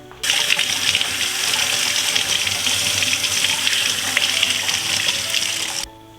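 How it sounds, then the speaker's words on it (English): Hands being washed under a running kitchen tap, a loud steady gush of water splashing into a sink for several seconds before the flow is shut off abruptly. "I'm going to wash my hands, come back."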